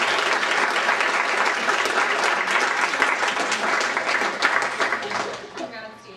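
A round of applause breaks out at a student senate meeting, dense clapping from a room of people that holds steady and then thins out at the end.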